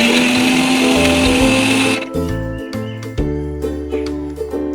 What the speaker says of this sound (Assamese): পিয়াজ, আদা, নহৰু, নৰসিংহ পাত আৰু কাজুখিনি আমি ভালকৈ গ্ৰাইণ্ড কৰি ল'ম।